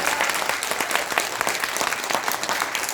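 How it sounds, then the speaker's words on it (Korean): Audience clapping at a Korean political talk show, a dense steady burst of many hands that holds at a constant level through the whole stretch, with no voices over it. "그런데 마지막 박수를 치세요"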